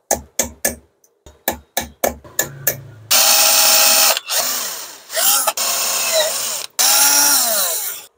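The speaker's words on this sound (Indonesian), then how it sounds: "tanda ini kita lubangi" A power drill bores holes in a salvaged LED lamp housing: a string of short sharp bursts, then longer whining runs with brief pauses between them, close and loud.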